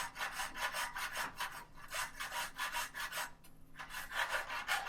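Repeated back-and-forth rasping strokes as the corners of a metal window bracket are filed or rubbed square, close and steady, about a dozen even strokes with one brief pause, no talking.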